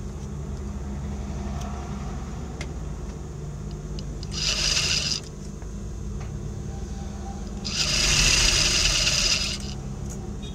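A sewing machine stitches a shirt placket in two short bursts of fast, buzzing whir that rise above a steady room hum, nearby and fairly loud.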